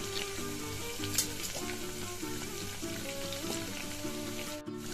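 Kashmiri red chili powder hits hot oil with ginger-garlic paste in a pan for mutton curry, giving a steady, close sizzle with light stirring. Faint background music runs under it throughout.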